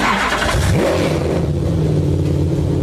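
An S7 supercar's hand-built 560 hp all-aluminum V8 revs loudly up close, the pitch sweeping up in one sharp rise and then settling into a steady, rumbling drone.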